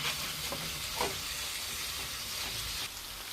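Minced-meat kefta fries with onion and raisins in a pan, giving a steady close sizzle and hiss with a few faint stirring scrapes.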